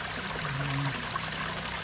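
A garden waterfall in a subtropical garden pours and splashes steadily, a continuous rushing wash of running water close by with no voices.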